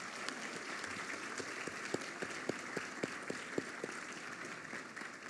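Applause for an honoree's wife, children and twin grandchildren at a court ceremony awarding a legal merit medal, steady and fairly faint, with a few sharper individual claps standing out through the wash.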